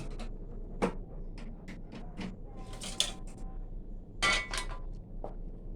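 Metal utensils clink and scrape against a small pan in several quick, irregular strokes as fermented-fish dip is scooped in, with a few louder knocks standing out from the background.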